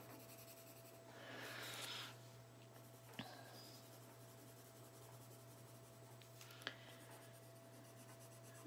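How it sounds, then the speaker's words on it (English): A pencil colors on paper, pressed harder to lay down a darker red; a soft, steady scratchy rubbing with a denser burst early on and a couple of faint taps, close and quiet, with no talking. "I'm kind of pushing a little bit harder with my pencil"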